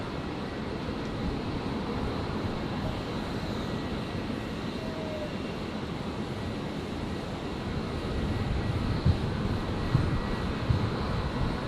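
A Qantas Boeing 737 airliner taxis at Brisbane Airport, its engines giving a steady, moderately distant rumbling drone that swells slightly louder toward the end.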